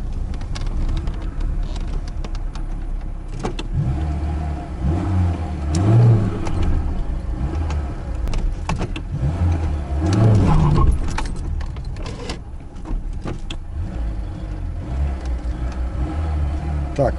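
A VAZ 2106 with contactless ignition fitted and poor spark plugs accelerating toward 100 km/h, its engine note rising and falling in surges through gear changes, heard from inside the cabin alongside rattling and clinking.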